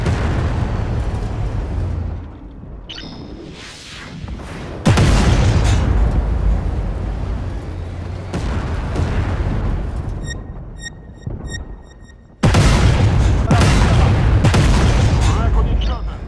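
Massive booming shots from the 152 mm gun of an Armata tank in the game Armored Warfare, several loud blasts with long rumbling decays and short quieter gaps, a brief metallic clink between them and a voice speaking in places.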